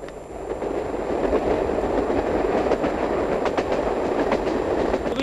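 A soldiers' train in an old Albanian film rolls in with steady, fairly loud wheel clickety-clack and a dense rumbling roar, continuous throughout without speech.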